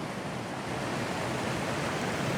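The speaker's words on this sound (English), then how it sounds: "We've got a gorgeous waterfall coming down." A waterfall and stream in Wales pour in a steady, dense rush of broadband water noise, loud and unbroken throughout with no voices.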